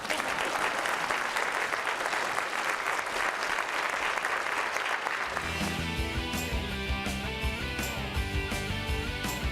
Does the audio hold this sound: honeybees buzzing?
no